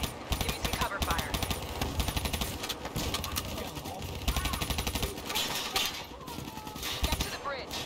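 Cover gunfire in Call of Duty: Black Ops 3, sustained rapid automatic bursts rattling continuously at close range with overlapping shots from several weapons.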